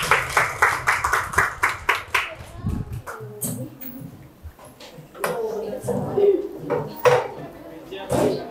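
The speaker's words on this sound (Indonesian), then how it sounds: "Tepuk tangan untuk orang ini semua." Clapping for performers at a Seumapa and Aceh hikayat event: a rapid run of sharp, close claps over the first few seconds, then scattered knocks and clatter with people talking nearby.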